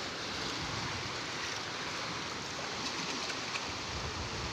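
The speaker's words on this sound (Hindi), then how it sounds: "काफ़ी सुंदर जो जल की धारा है बहुत तेज़ है।" Fast-flowing river current at a scenic riverside spot, a steady broadband rush of water with no pauses, close and fairly loud throughout.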